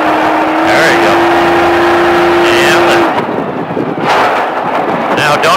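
A Baja off-road vehicle at Speed Vegas roars loud and close under throttle, holding a steady engine drone before surging and easing off in waves, with a voice briefly audible.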